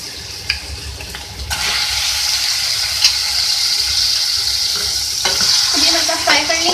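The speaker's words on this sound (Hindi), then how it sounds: "ये हल्का फ्राई कर लेंगे" Chicken fries in a pan with a loud, continuous sizzle, broken by clattering scrapes as it is stirred, with sharp utensil knocks near the start and the end and no voices.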